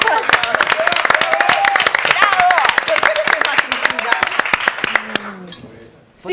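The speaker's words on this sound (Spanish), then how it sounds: "¡Fuerte el aplauso!" A studio audience on a TV lunch talk show claps in a fast, sharp burst of individual hand claps while people talk and shout over it, fading out near the end.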